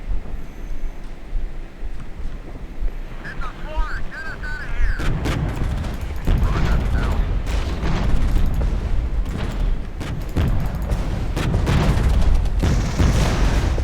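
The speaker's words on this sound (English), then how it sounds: "some heavy artillery here as well" Heavy artillery thunders in the real-time tactics video game Regiments, loud repeated booms and rumbling blasts layered over a dense battle din that swells after the first few seconds and keeps pounding.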